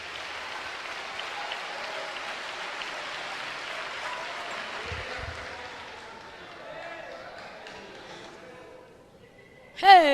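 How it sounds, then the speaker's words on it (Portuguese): A church congregation applauds during a sermon, with dense, sustained clapping that slowly thins and fades, followed by a short loud vocal burst at the end. "Vamos aplaudir com vontade."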